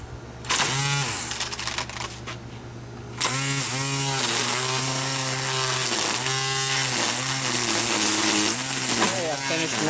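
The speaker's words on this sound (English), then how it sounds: "the Earthwise grass trimmer seemed to do the job just fine" Cordless battery-powered Earthwise electric string trimmer whirring steadily while edging a yard, starting after a brief pause and holding a continuous high buzz that rises and dips slightly as it cuts grass.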